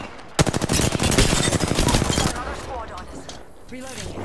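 Rapid automatic gunfire in a multiplayer shooter game, a fast loud burst of evenly spaced shots lasting about two seconds, then scattered game effects and faint voices.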